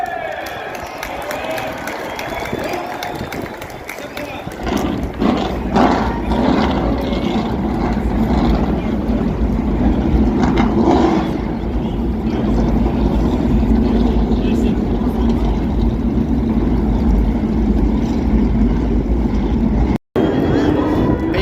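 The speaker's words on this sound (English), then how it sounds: "Start your engines!" NASCAR race car engines fire up together at Las Vegas for the Pennzoil 400, a loud, continuous, rumbling roar of many engines that holds steady for the whole stretch, with crowd noise and voices mixed underneath.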